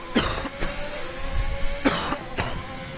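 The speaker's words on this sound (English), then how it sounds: "Excuse my coughing, I am a bit chesty" A motorsport commentator with a chesty cough gives several sharp, close coughs and throat clears in bursts, with a faint steady hum underneath and no speech.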